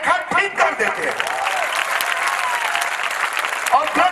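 Audience applause at a Shrimad Bhagavat Katha religious discourse, a sustained burst of crowd clapping lasting several seconds, with voices mixed in among the claps.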